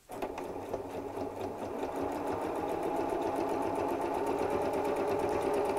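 Sewing machine stitching a fabric storage cube with a slightly longer stitch length, running steadily and close up for several seconds without pause and with no talking.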